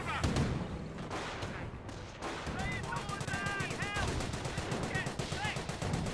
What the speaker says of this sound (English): Course rifles hit the Ostwind.